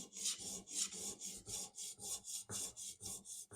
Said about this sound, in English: All I need to do now is hone the bevel.